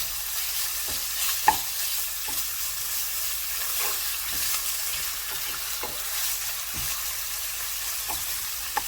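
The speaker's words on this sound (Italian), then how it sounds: "E dopo qualche minuto aggiungiamo la carne trita. Con un cucchiaio di legno sminuzziamola per bene." Minced meat browning in a pan for lasagna without béchamel, broken up with a wooden spoon: a loud, steady hissing sizzle with regular scraping strokes of the spoon every second or so, close up and with no talking.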